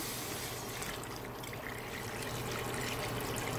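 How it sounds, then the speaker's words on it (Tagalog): Water pours steadily into a pot of clams with malunggay, a continuous close trickle and splash that runs unbroken with no talk. "Bago maubusan ng ano, lagyan natin ng tubig."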